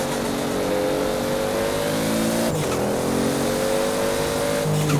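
A Toyota Supra in Forza Horizon accelerates with a loud, sustained engine drone whose pitch climbs steadily, dips briefly at a gear change midway, then keeps rising.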